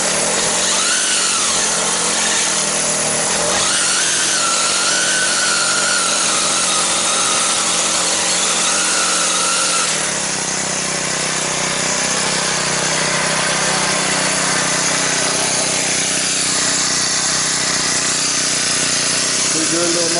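A Craftsman 32cc 4-cycle gas string trimmer, model 73193, runs steadily and loudly throughout, its engine drone holding a constant high whine with slight shifts in pitch, with someone talking intermittently over it.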